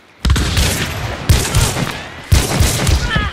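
Gunfire in the video game Hunt: Showdown, three loud, close bursts of shots with sharp onsets, each followed by rumbling echo and decay.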